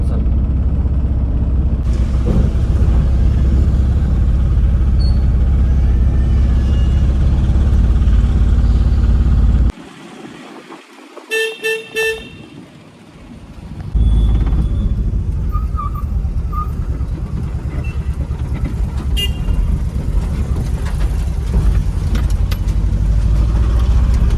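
A car drives along a road with a steady engine and tyre rumble that drops away briefly midway, then resumes at the same even level.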